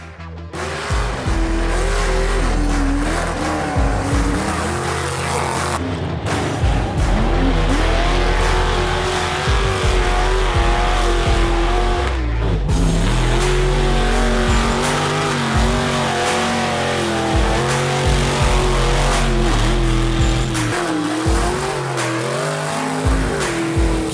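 A loud off-road racing engine roars and revs continuously, surging and dropping in pitch as it accelerates hard, with tires squealing at times.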